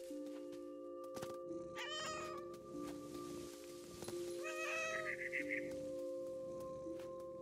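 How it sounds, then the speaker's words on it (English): Angry cat in the video game What Remains of Edith Finch, giving two loud, close yowling meows over a steady droning game soundtrack. "you got a pissed off kitty."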